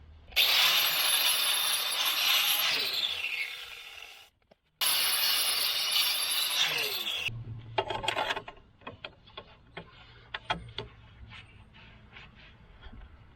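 A handheld grinder works car body metal during rust repair on a Jaguar XJ, with a long rasping grind, a brief pause, another pass, then lighter scraping and tapping as it winds down.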